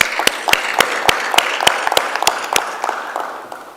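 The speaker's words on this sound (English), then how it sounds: "can we give him another round of applause" Audience at a cannabis-industry conference session claps for a speaker, crisp, evenly spaced handclaps close by that thin out and fade toward the end.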